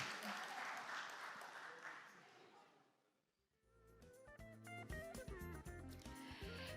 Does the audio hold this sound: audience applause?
yes